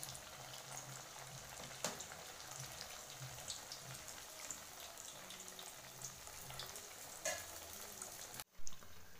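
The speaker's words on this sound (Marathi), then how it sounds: "कमी गॅसवर हे खरपूस भाजून घ्यायचे. भाजून तळून घ्यायचे." Sabudana vada frying gently in oil on low flame, a soft, faint bubbling crackle with occasional sharper pops and a brief clatter near the end, close and quiet, no talking.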